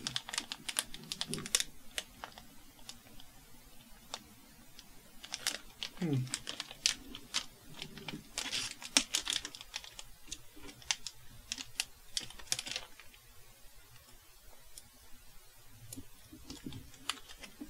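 Crinkly plastic packaging of a Pokemon Nanoblock Dragonite set rustles and snaps in repeated bursts up close as someone works at opening it, with sharp crackles scattered throughout.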